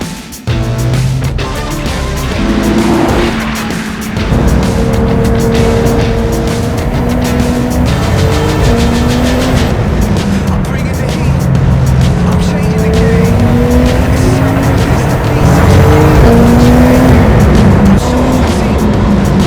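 SCG CUP 900 race cars on a track, engines droning loudly with rising and falling gear-change pitch sweeps and occasional tyre squeal, continuous throughout with faint background voices.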